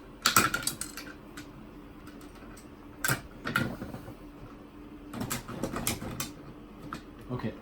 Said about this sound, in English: pair of snips, and I'm gonna try to cut the box off around them